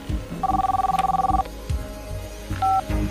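A telephone rings twice in electronic trilling bursts, the first long and the second short, with soft room noise between them.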